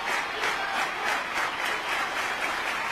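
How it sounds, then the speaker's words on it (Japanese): Baseball stadium crowd in an anime applauding after earlier booing, a dense, steady wash of many hands clapping throughout, fairly loud and without talk. "あれだけのブーイングがいつの間にか拍手に変わっている。"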